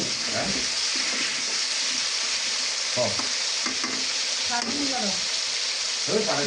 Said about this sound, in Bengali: আলুটাও সেইভাবে করে ফ্রাই করে দিতে হবে